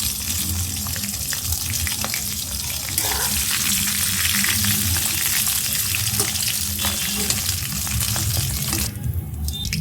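Hilsa fish heads frying in hot oil in a pan, a loud, dense, continuous crackling sizzle held close up for the whole stretch, with light stirring noises and a brief dip near the end.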